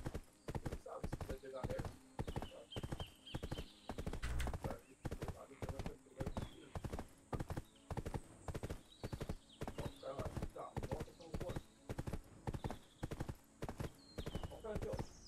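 Horse hooves clip-clop in a steady, even rhythm throughout the Black Desert video game, loud and close, with a brief whinny partway through and voices talking over the hoofbeats.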